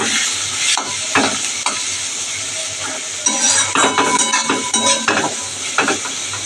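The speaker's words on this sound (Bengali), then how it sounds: "কাশ্মীরি লঙ্কার গুঁড়ো, এটা দিয়ে মশলাটা ভালো করে কষিয়ে নেব।" Spice paste with Kashmiri chili powder fries in oil while a utensil stirs and scrapes the pan in repeated strokes over a constant close sizzle, with no talking.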